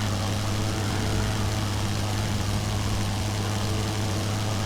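A WWI aircraft engine in the flight sim Wings Over Flanders Fields, one with poor cooling, drones steadily and loudly throughout with a low, even hum and no breaks.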